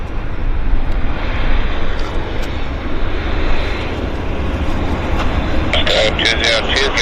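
A WestJet airliner in swoop livery at Vancouver Airport gives a loud, steady jet rumble and roar that fills the scene, with a voice speaking over it near the end.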